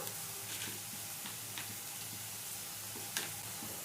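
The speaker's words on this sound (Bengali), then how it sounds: "বাটা মশলাটা তেলের সাথে ভালো করে মিশিয়ে নিচ্ছি এবার স্বাদ মতো লবণ দিয়ে দিলাম" Ground spice paste frying in oil as it is stirred, a soft continuous sizzle broken by light clicking scrapes of the spoon against the pan, quiet and close.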